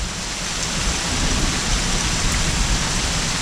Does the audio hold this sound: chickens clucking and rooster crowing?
no